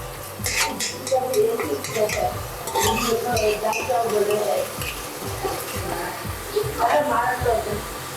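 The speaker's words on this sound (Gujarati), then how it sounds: "હવે આપણે ટામેટાને હલાવી લઈશું" Tomatoes are stirred in a cooking pot with a spoon, giving repeated scraping and clinking strokes over a low sizzle of frying, close and fairly loud.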